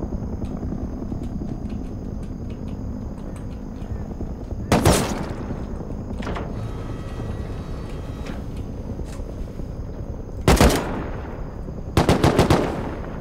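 Gunfire in the survival video game Rust: several sharp, loud bursts of shots spaced across the span, including a quick rapid volley near the end, over a steady low game background hum.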